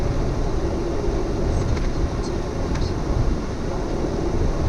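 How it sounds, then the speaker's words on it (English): A train passing at a road crossing in Australia makes a constant heavy rumble, close and loud, with faint metallic squeaks over the roar. "I got a freaking train."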